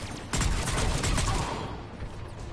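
Gunfire from a mounted gunman in the video game Mass Effect 3 rattles out as a dense burst of rapid shots, loud and close, then fades into a lingering rumble.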